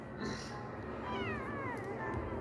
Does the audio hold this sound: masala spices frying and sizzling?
no